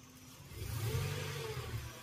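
A Toyota Innova engine idling too low, a steady mid-pitched hum that swells slightly, heard close and fairly faint without speech.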